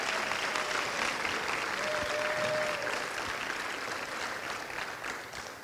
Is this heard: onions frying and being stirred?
no